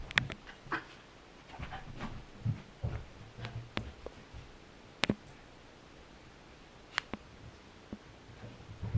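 A dog pants and whimpers softly indoors, quick close breaths and faint whines mixed with light rustling and scattered sharp clicks, fairly quiet overall.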